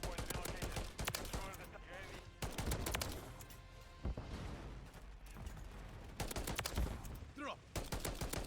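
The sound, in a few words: DM 56 rifle gunfire in Modern Warfare 3 video game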